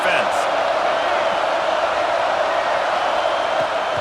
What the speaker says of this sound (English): Listen to this crowd just shaking the girders of this place